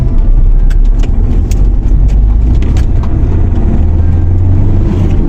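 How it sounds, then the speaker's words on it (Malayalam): A car engine drives past on a narrow single-lane road in the UK, loud and close, with a steady low rumble that swells as it goes by; no one speaks. "വണ്ടി വരുന്നുണ്ട്"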